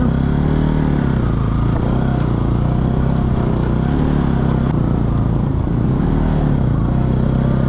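Motorbike ridden slowly along a rough, dangerous off-road trail, its engine droning loud and steady throughout with a continuous rumble and occasional clatter, no talk heard.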